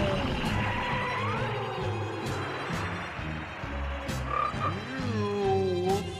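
A cartoon frog croaks in a Dragon Ball Z Abridged episode, a steady run of loud, close croaks with a rhythmic pulsing pattern, set against busy background effects and a few sharp hits.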